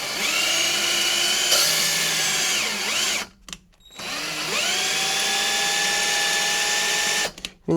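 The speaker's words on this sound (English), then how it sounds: "if you can see the valve spinning down there" Electric drill spinning a cylinder head valve for lapping, a steady high whine that runs, cuts out briefly for a second, then resumes close and loud.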